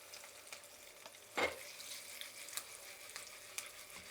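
Turmeric stirred into hot tempering oil with dried red chillies for tamarind pulihora, giving a faint, steady frying sizzle with one brief louder crackling burst early on and small pops throughout.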